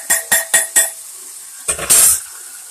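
A ladle clinks four times against a hot pan while sausage gravy is cooked, then liquid goes in and sizzles up in a loud, hissing burst as the pan is stirred and deglazed.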